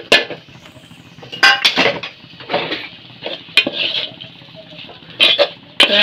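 A paste of ground coconut, cumin and dried red chillies being stirred and sautéed in a pan, with clanks and scrapes of a spoon against the metal and a faint sizzle, close, in irregular bursts, without talk.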